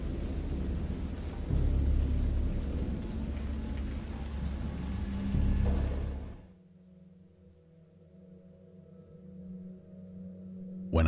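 Heavy rain and rumbling thunder in a wild storm at sea, a loud dense roar that cuts off abruptly after six seconds, leaving a low, quieter tone.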